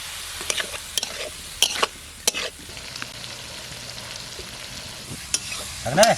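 Cut potatoes being sautéed in a pan for a village-style fish curry, with scattered scraping stir strokes and short bursts of frying over a low steady sizzle.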